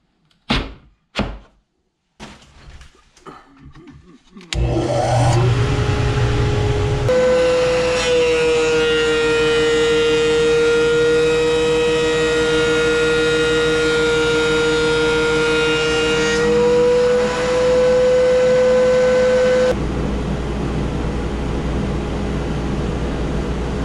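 A few knocks and clunks precede a thickness planer spinning up to a loud, steady whine while planing walnut, a dust collector hose attached, running about fifteen seconds before winding down to a lower hum.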